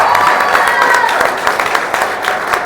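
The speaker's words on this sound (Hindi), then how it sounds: "एक बार पूरी टीम के लिए आप लोग जोरदार तालियां बजाएं" Loud applause from the audience at a stand-up comedy show in Harda, a dense wash of clapping with some crowd noise and faint cheering mixed in, easing slightly toward the end.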